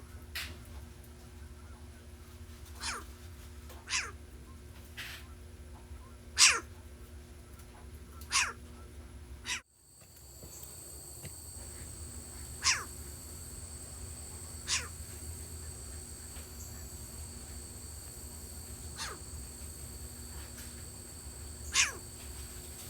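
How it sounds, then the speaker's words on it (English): Short-eared owl calls from a recording, sharp isolated notes spaced a few seconds apart over a faint steady background hum, the sound briefly cutting out midway before the calls resume. "This is the sounds of a short-eared owl."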